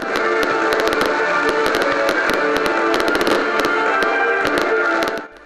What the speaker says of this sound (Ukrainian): Увечері у долині Троян спалахнули вогні салюту.